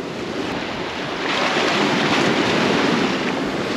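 Ocean surf rolling onto Unawatuna beach in Sri Lanka, a steady broadband wash that swells slightly partway through, with wind buffeting the microphone and no voices.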